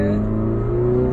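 Subaru Impreza engine droning at quarter throttle, a loud continuous in-cabin hum with a slowly climbing pitch, heard alone for a brief moment.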